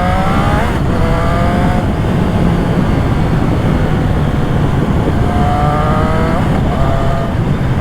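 Triumph Trident 660 motorcycle with a Zard full exhaust riding along, a loud continuous engine drone with rising pitch sweeps as it accelerates through gears, rough and close throughout.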